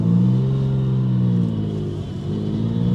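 A Porsche 911 from an auction, condemned to the junkyard, pulls away in first gear, its engine note climbing steadily through a continuous close rumble for about three seconds with no talk.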